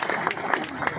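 Brief burst of audience applause at a Hindi kavi sammelan poetry gathering, steady clapping from a crowd with a voice briefly over it.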